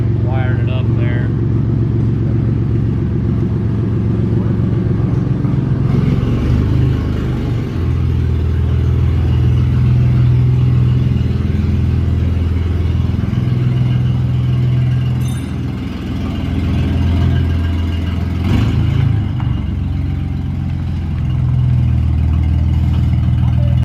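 A Ford Mustang's engine runs steadily after a new transmission install, a loud, close low rumble with a few rises in revs, while people talk over it now and then.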